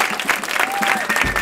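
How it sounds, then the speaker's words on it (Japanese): Audience applause following a sanshin performance at the Blue Note in New York, a dense, steady clapping that fills the whole stretch, with a faint sustained tone drifting through it. "鳴り止まない拍手の中、夢のステージに招待したアティーバの席へ向かう"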